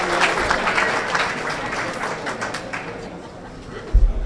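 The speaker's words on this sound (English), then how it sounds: "Round of applause for him, please." An audience at a 2022 Westlake Hall of Fame ceremony claps together in a dense, steady round of applause for an honoree that gradually thins, with a low thump near the end.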